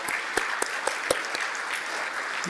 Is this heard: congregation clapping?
yes